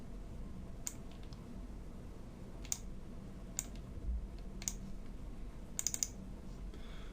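A computer mouse is double-clicked during game editing, producing a few faint, sharp clicks spaced across a quiet background, including a quick close pair near the end.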